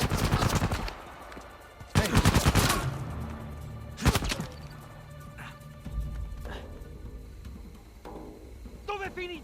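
Gunfire from the video game Uncharted 4 comes as loud bursts of shots with pauses in between, mixed with in-game voices and footsteps.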